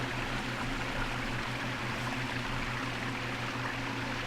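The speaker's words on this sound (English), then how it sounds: "with the waterfall and the rest of the way the water falls into this pond, it stays well aerated" A waterfall pours steadily into an aquaponics pond, giving a constant, soft rushing wash of water that stays even throughout, with no voices.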